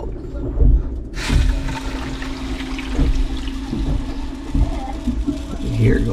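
Water rushes through a newly installed under-sink filter faucet in a loud, steady gush beneath a sink, with rattles and bumps throughout and a voice speaking faintly underneath.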